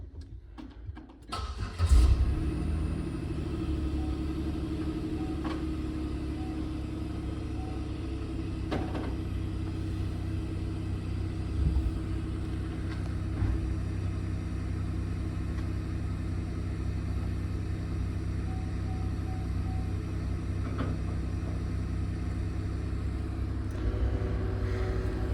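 A car engine cranks and catches, then settles into a steady idle that runs on evenly for a long stretch, close and moderately loud, with no talk.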